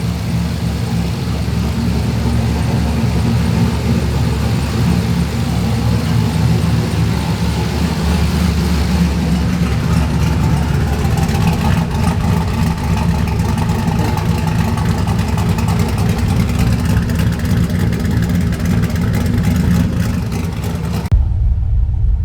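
A car running on a Holley Terminator X Max EFI system with 93-octane fuel and Injector Dynamics 1050X injectors idles with a steady, loud, low rumble that holds unbroken for about twenty seconds before cutting off abruptly.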